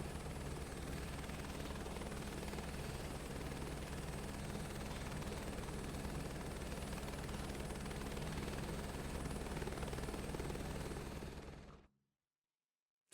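Helicopter engine and rotor in Microsoft Flight Simulator 2024, a loud, steady, unbroken drone that cuts off abruptly to silence near the end.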